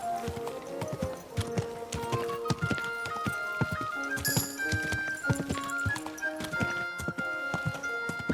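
A horse's hooves clip-clop steadily in the video game Kingdom Come: Deliverance II, with an even trotting rhythm over soft background music tones.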